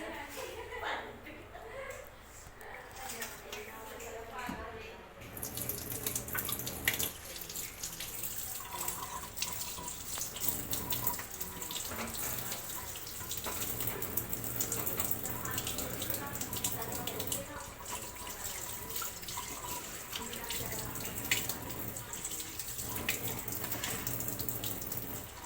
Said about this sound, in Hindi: इसे हम अच्छी तरह वॉश कर लेंगे।